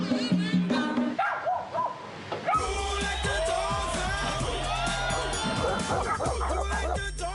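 Dogs bark and yip among a crowd at a street race, several animals close by, with lively crowd noise and some talk running under them throughout.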